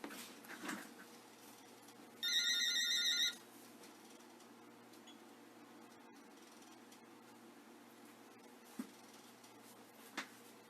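A landline telephone rings in one short burst of electronic trills inside a quiet house, standing alone with no talk, followed by near silence and a couple of faint clicks.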